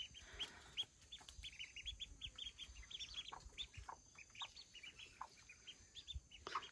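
A group of ducklings raised by a hen keeps up a busy stream of shrill, overlapping peeps nearby, soft but constant, with occasional faint scuffling.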